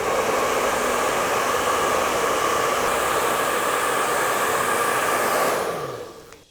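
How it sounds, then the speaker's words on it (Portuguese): A hair dryer blows steadily and loudly on taped watercolor paper, a constant broadband whoosh that runs for several seconds, then the motor cuts off and winds down near the end. "Agora eu vou secar com o secador."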